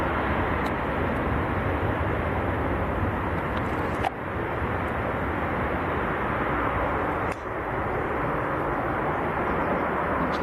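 An airplane lands late on the runway at Leeds Bradford Airport with a steady, loud, broadband engine and air roar that holds for about ten seconds, broken by a couple of brief clicks, with no voices.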